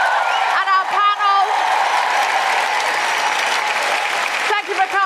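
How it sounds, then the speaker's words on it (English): A large audience claps steadily and loudly in the Royal Albert Hall during a live show, with a continuous dense roar of applause and a few voices or cheers rising above it near the start and end. "can we just have a huge round of applause for all of the incredible performers?"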